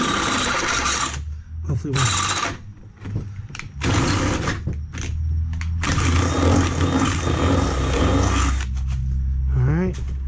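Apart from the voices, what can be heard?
power drill drilling holes in basketball base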